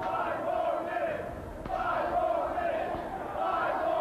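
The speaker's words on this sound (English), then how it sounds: "The crowd chanting for 5 more minutes" A wrestling crowd at an NWA Eddie Gilbert Memorial Brawl event in Cherry Hill chants in steady rhythmic waves, loud and sustained throughout the arena, with a couple of sharp thuds in the middle.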